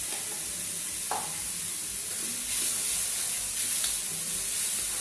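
Kimchi and onions stir-fry in a hot pan with a loud, steady sizzle and hiss, close up, while a utensil scrapes and stirs through the food now and then.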